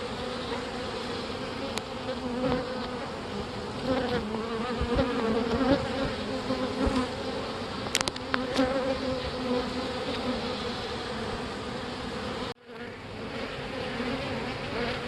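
Dense buzzing of many honeybees swarming around a large, six-box-tall hive during an open inspection, a steady close drone with passing individual bees whining near, briefly cut near the end.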